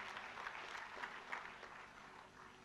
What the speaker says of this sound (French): Encore une fois, applaudissements.